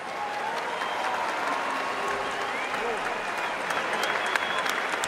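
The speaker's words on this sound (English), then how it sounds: "let's get a nice round of applause out here for both of these fighters" Arena crowd in Sheffield applauding both boxers after a twelve-round fight, steady dense clapping and cheering that fills the space at an even level throughout.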